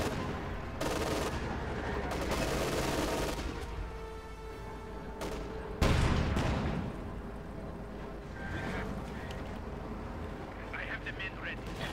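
Explosions and bursts of gunfire from a Company of Heroes 2 battle involving SU-76 vehicles, dense and continuous with a sharp loud blast midway, under excited commentary.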